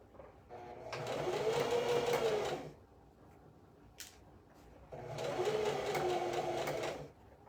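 A sewing machine stitches dress ruffles in two steady bursts of about two seconds each, with a quiet pause between them and a single brief tap during the gap.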